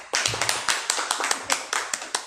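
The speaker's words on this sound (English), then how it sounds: "Let's have a round of applause for her." A room of people at a public speaking training module applauds, a close, steady round of clapping with distinct overlapping claps running throughout.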